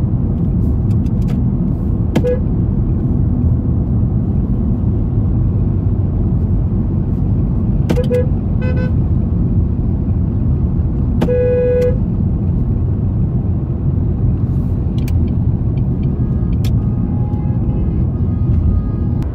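Inside a 2001–2009 Jaguar X-Type with a 2-litre 130-horsepower diesel and five-speed gearbox, driving on a road at 90 km/h, a steady loud low drone of engine and road noise continues, with a few brief tonal beeps over it.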